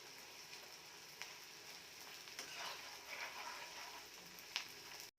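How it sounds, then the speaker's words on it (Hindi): Edible gum (gond) frying in a pan, a steady close sizzle with soft crackles and a few sharper pops, quiet overall and without voices. "हमारे गोंद फ्राई हो चुके हैं।"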